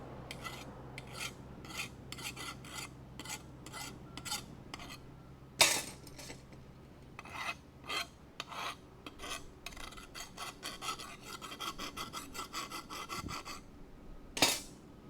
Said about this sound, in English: I also gotta deburr this thing.